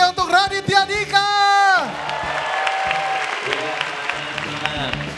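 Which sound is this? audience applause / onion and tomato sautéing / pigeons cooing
audience applause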